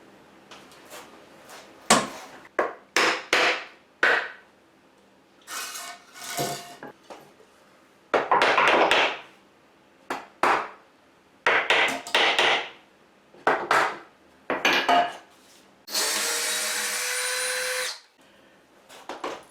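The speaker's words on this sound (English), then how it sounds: "what I'm going to do is now remove the form" Wooden forms being pulled away from cured cement at a shower build, with a string of short, loud knocks, scrapes and clunks in irregular bursts, then a longer hissing broadband noise near the end, close and with no talk.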